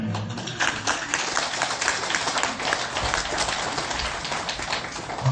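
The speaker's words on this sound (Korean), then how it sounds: "박수 소리를 들어보니까 빨리 끝내라는" Sustained audience applause at a Buddhist temple Dharma talk, a dense, even patter of many hands clapping continuously throughout, with no voices over it.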